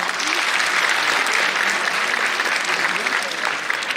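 Applause from a conference audience at the 19th Indo-Japan international conference, a dense, steady wash of many hands clapping throughout, loud and close with no break.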